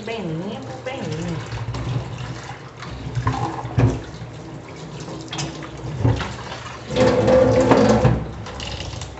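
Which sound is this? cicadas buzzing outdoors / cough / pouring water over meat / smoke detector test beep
pouring water over meat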